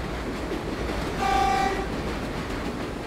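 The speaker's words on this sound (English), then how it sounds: "There's a train right here." A subway train in World of Subways passes with a dense, steady rumble and rail noise, and a brief tonal horn sounds in the middle, with no talk over it.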